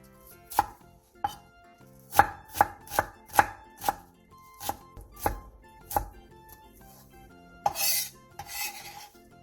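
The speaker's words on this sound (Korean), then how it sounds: "양파 2분의 1개에 화면처럼 칼집을 넣은 뒤 잘게 썰어주세요." A knife chops half an onion finely on a cutting board, sharp separate knocks in an uneven rhythm of about a dozen strokes, close and clear with no talking, ending in a brief scraping sweep.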